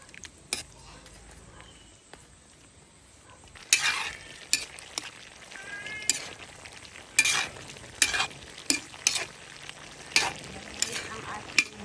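Chicken liver and gizzard adobo with string beans stir-fried in a pan: a steady sizzle broken by repeated sharp scrapes and clinks of a utensil against the pan, close and loud, with occasional talk in the background.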